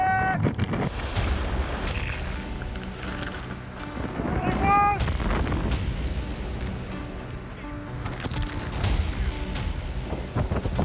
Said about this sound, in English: Waves are pounding us,